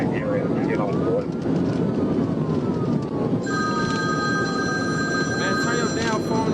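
A phone rings during a car chase, with steady repeating electronic tones heard under loud continuous engine and wind roar while people talk in the background.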